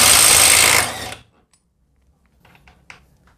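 A Bull BL800NM impact wrench loosens a bolt with one loud, close, rapid hammering burst lasting about a second, then cuts off to near silence with a few faint clicks.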